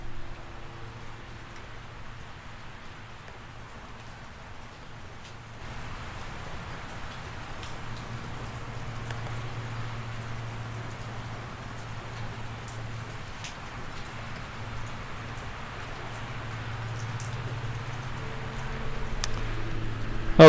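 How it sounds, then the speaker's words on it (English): Steady rain patters and hisses on surfaces close by, with a faint low hum of traffic in the background that swells slightly toward the end. "you wouldn't hear the snow, but you can hear the rain."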